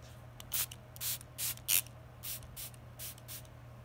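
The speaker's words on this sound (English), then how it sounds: "we're gonna spray that with some finishing spray" Short hissing bursts of finishing spray are aimed at a doll's hair, about eight quick puffs in an irregular rhythm, close and fairly soft, with no talking.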